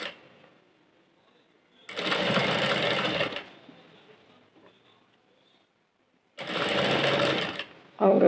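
Sewing machine stitching a lined blouse, running in two loud, close bursts of rapid stitching separated by quiet pauses, with a third burst just starting at the end.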